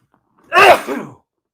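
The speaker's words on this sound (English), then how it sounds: "Oh, I got to sneeze." A single loud, close sneeze with a sharp burst and a brief trailing exhale, surrounded by silence.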